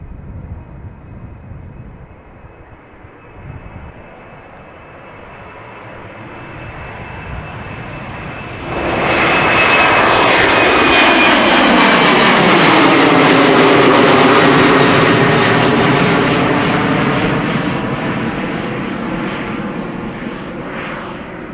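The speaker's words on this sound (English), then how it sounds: "ITA Bombardier C Series 100 is now taking off from center" An ITA Airways Bombardier C Series 100 airliner departs Amsterdam Schiphol Airport, its jet engines spooling from a distant whine into a loud, sustained roar that sweeps past and slowly fades, with no talk.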